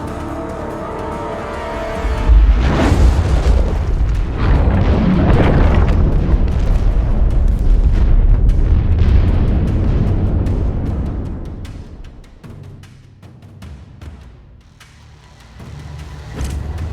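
Heavy weapons fire and explosions in The Expanse: A Telltale Series, a loud rumbling barrage that builds fast and roars steadily for several seconds, then fades into a low hum before swelling again at the end.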